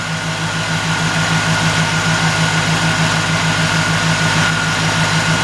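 GM LT1 V8 idling after a fuel injector swap, a steady low rumble with a faint rhythmic pulse and constant hum, close and continuous with no talking.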